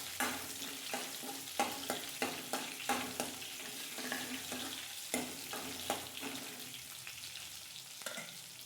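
Ginger sizzling and frying in a pan with coconut and curry leaves, a steady loud crackle broken by repeated stirring scrapes and clatters, with no voices.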